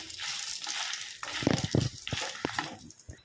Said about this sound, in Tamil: கொஞ்சம் சிவப்பு மிளகாய், 20 சிவப்பு மிளகாய், 4 பல்லு பூண்டு போட்டு நல்லா வதக்கிக்கணும், ஃப்ரை பண்ணிக்கணும்.